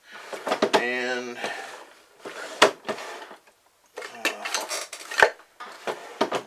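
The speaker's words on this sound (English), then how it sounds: "drawer's in here, it is. Get my little socket and ratchet out." Metal tools clink and rattle as a workshop drawer is rummaged for a socket set and ratchet, several bursts of jangling close by, with someone talking between them.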